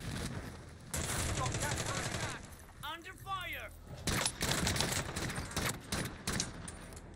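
Rapid bursts of Ram-7 assault rifle fire in the Modern Warfare Warzone video game, several sharp volleys spread across the clip with battle noise between them and a brief metallic rattle near the middle.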